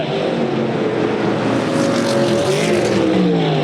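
A USAC Silver Crown race car passes by during the Ted Horn 100 at DuQuoin, Illinois: a loud, steady engine drone whose pitch sweeps through the pass, with no voices.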